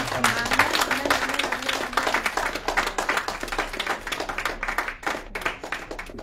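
A church congregation claps and applauds steadily for several seconds, with dense, lively clapping that carries on under some voices.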